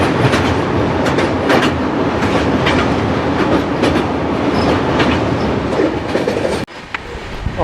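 The Tamil Nadu Sampark Kranti superfast express runs fast along the rails, a loud continuous rumble with rhythmic clickety-clack from the wheels, heard from on board, with a brief sharp dropout near the end.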